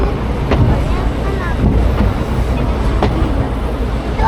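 A tourist train at the Ambarawa railway museum, heard from the rear of the carriage as a steady rumbling roll with wind buffeting and occasional clacks, while people talk nearby.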